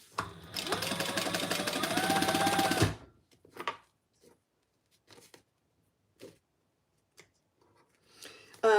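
Sewing machine stitching fabric runs steadily and loudly for about two seconds, then stops, followed by faint, scattered handling clicks and rustles.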